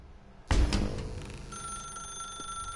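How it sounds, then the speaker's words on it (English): A telephone rings in the video game The Stanley Parable, with a sharp onset followed by a steady, fairly loud electronic ringing tone that holds on alone without talk. "Now pick up the phone."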